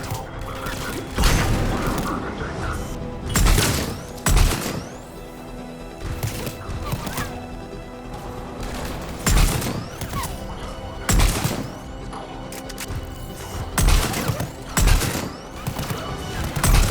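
Bursts of video game gunfire crack out in a firefight at a checkpoint, with several loud volleys scattered irregularly over a busy din of combat noise, no voices.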